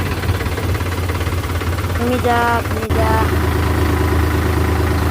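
A tractor engine idling with a steady low rumble and knock throughout, close and loud, while someone speaks briefly over it and a short tonal sound rises midway.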